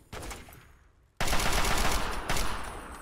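Gunfire in the video game Fallout 3 comes as a short burst, then after a brief silence a loud, sustained rapid-fire automatic volley breaks out and rolls on with a second surge near the end.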